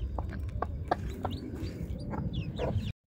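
Several chicks peep in quick, high, sweeping chirps scattered over a low rumbling background, close by and fairly soft, with no talking.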